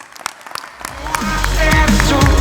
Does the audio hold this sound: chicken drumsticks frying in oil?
no